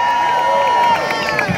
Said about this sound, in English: Let's give a big round of applause to Senator Chuck Schumer